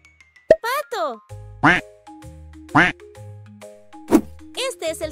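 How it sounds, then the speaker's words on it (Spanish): A duck quacks in several loud, clear, nasal calls spaced a second or so apart, close up, with a soft bell-like tone and other light effects between them. "Este es el sonido que hace el pato."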